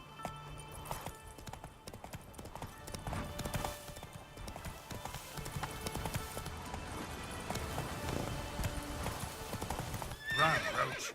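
Roach the horse gallops in Witcher 3: Blood and Wine. Rapid rhythmic hoofbeats run continuously and fairly faint, with a whinny near the end and game ambience underneath.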